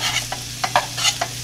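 Sausage browning in a pan for Thanksgiving stuffing, a steady low sizzle with a few sharp scraping stirs of the utensil, close and fairly loud.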